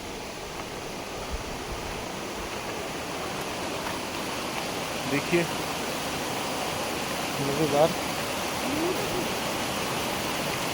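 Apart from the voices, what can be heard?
river flowing down through the jungle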